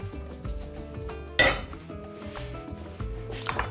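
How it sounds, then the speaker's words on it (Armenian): A metal pot is set down on a stove while cooking bigos, giving a sharp clank among lighter clinks and scrapes of kitchenware, close and clear with no voices. "այս ընթացքում կաթսան դնում ենք կրակին"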